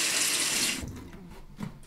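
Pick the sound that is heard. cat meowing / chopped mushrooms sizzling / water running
water running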